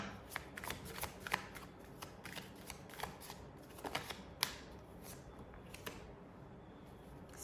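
Tarot cards are shuffled by hand in a steady stream of soft riffling and slapping, with crisp card flicks scattered throughout, close and fairly quiet with no talk.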